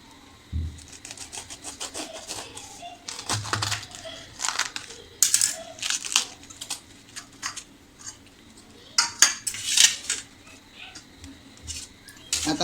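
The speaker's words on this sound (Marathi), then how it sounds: "हा जो कोबीचा कांदा आहे तो मी स्वच्छ धुवून घेतला आहे आणि आपल्याला त्याला किसणीवर छानपैकी असं बारीक किसून" A washed cabbage is finely grated on a hand grater, making a series of close, uneven rasping strokes in short bursts with brief pauses between them.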